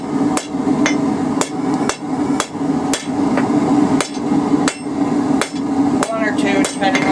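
Hammer blows ring on an anvil while a hot steel taper is forged for a feather incense burner, a steady rhythm of sharp metallic strikes, roughly two per second, loud and close throughout with no talking.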